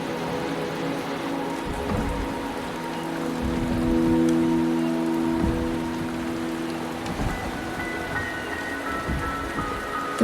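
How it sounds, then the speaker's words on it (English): Rain patters in a Wuthering Waves cutscene, a soft steady wash beneath sustained low tones and faint soundtrack notes, moderately quiet and continuous. "The rain is subsiding, and the sky will soon clear."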